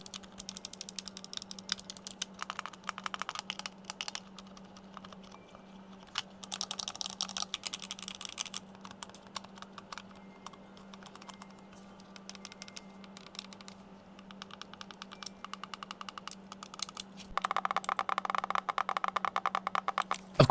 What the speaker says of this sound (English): this does feature the clicky sound that you get with mechanical action buttons